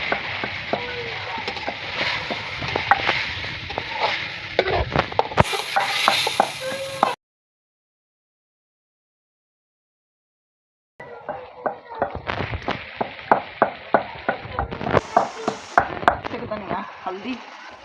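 Vegetables with green chilli and ginger hitting a hot pan, crackling and sizzling steadily while a utensil clacks and stirs in quick repeated knocks, broken by a few seconds of silence before the stirring and frying resume.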